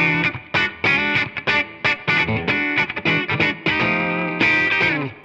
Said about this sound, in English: my super reverb, Fender super reverb